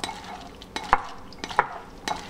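A utensil tosses and folds bitter gourd salad with vinaigrette in a bowl, giving soft wet scrapes and a few sharp clinks against the rim at uneven intervals, close up and quiet.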